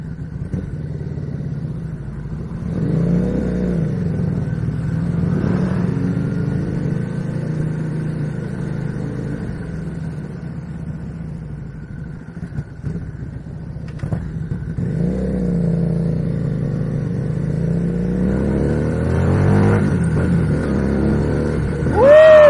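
An FKM Victorino 250i motorcycle engine pulls away and accelerates on a street in Intramuros, a steady close drone with rising revs in two surges and a sharp climb at the very end, with no talk over it.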